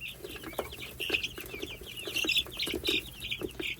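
Guinea fowl and chickens squabbling over hand-fed mealworms on a small farm, with a busy stream of close, sharp clucks, chirps and squawks over a steady low background hum.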